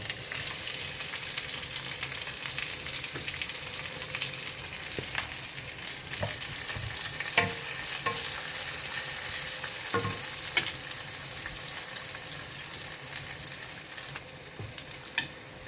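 Chopped onion sizzling and frying in a pan for a spicy paklay dish, a continuous crackling hiss with scattered sharp pops and occasional stirring scrapes, close and steady throughout.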